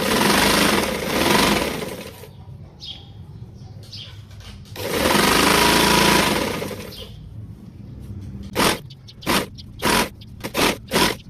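A sewing machine stitches a zigzag design along a dupatta, running in two long steady bursts and then a series of short, rhythmic stitching spurts near the end, close and fairly loud with no talking.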